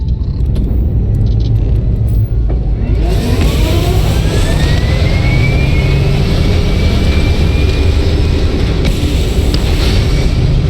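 A spaceship lifts off in the space game Starfield with a loud, rising jet-like roar that swells after a quiet start, a whistling tone climbing and sweeping through the thrust, continuous and without talk.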